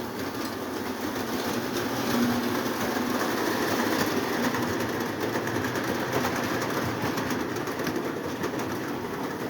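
Two Lionel toy train sets, a Looney Tunes train and a Mickey Mouse train, run around a track with a steady, continuous rolling rumble and whir that stays even throughout, with no talking.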